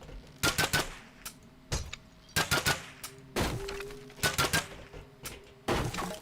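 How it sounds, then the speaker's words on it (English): Video game magic bolts fire and crash into barrels as they break apart, heard as bursts of quick sharp cracks in clusters, repeating about every second over a faint background. "I shoot them and then a couple seconds later it breaks"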